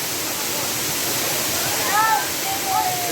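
Constant roar of the Pandav Van Dham waterfall, loud and close, with faint voices briefly audible over the rushing water.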